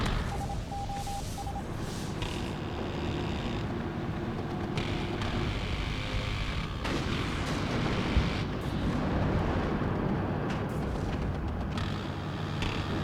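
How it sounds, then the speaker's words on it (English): A Pivads anti-air gun in the strategy game Warno fires rapidly at infantry in a forest, a dense, continuous rumble of cannon bursts and distant explosions layered under battlefield noise for the whole stretch. "it's an anti-air gun shooting at infantry"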